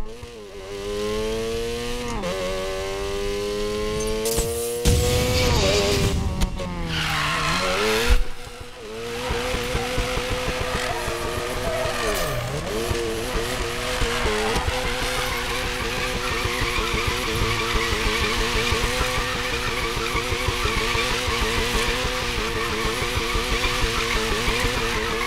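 Ford car engine sounds in the racing game Need for Speed Payback: loud, continuous revving with rising and falling pitch sweeps and a brief burst of tire noise near the start, with no talking.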